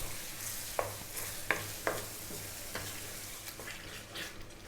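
Meat frying in butter in a hot pan for Ethiopian siga firfir, sizzling and crackling, with sharp clinks and scrapes of stirring breaking through the steady frying hiss.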